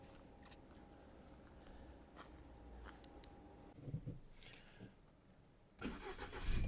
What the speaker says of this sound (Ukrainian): Автомобіль заводиться з півтику, не доміть, не троїть.